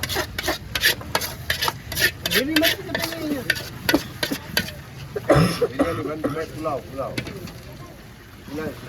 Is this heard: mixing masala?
yes